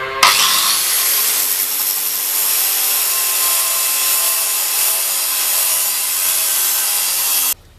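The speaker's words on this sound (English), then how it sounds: "I've resorted to a jab saw, and it is very slow and tedious" A steady, harsh rasping of a jab saw cutting through a bolt on a Ferguson plough runs continuously and up close for several seconds, then cuts off abruptly.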